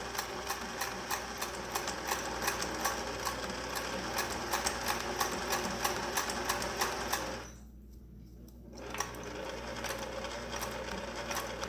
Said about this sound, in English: I'm going to continue sewing close to the edge here